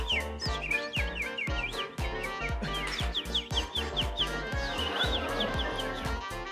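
A person imitating a realistic bird call, rapid repeated chirps and whistled tweets over a strong rhythmic music track with a thumping beat, the chirps standing clearly above the backing.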